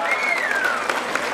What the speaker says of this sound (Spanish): Escuché chiquito el aplauso para los que lo arriesgan todo.